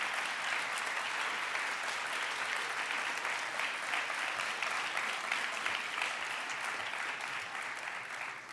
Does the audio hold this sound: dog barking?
no